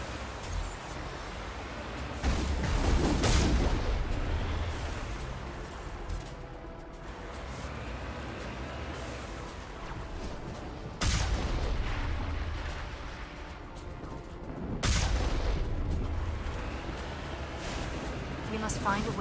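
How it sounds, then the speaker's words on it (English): Artillery fire in the Mass Effect video game, heavy booming blasts that arrive in several bursts over a rumbling battle backdrop, with a voice speaking between them. "We must find a way to disable their artillery."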